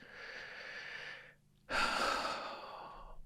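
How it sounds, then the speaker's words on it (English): A person takes a nice big deep breath up close: a long, soft inhale, a short silent pause, then a fuller, louder exhale that slowly fades. "Nice big deep breath."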